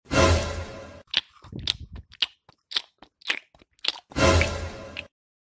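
Someone chews food with loud, close crunching bites, a burst of heavy crunching at the start and end, with quicker snapping chews in between.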